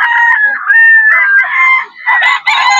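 A rooster crows loudly and close by at a pet market, a long drawn-out call followed by another shorter crow.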